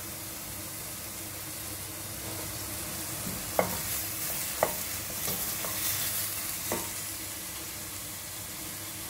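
Cumin seeds roast in a pan for shahi paneer, giving a soft, steady sizzle and hiss with a few clear metallic clinks of stirring, fairly quiet and close.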